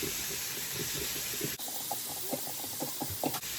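Sausage hitting a hot pan and sizzling, a loud continuous hiss with rapid crackling pops close up, the sputter shifting midway; no one speaks.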